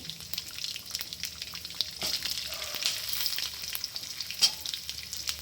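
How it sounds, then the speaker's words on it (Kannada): Garlic and green chillies fry in oil for lemon chutney, a close crackling sizzle with occasional spoon scrapes and clinks against the pan, quiet and steady throughout without any talking. "ಇದು ಸ್ವಲ್ಪ ಫ್ರೈ ಮಾಡ್ಕೊಳ್ಳೋಣ"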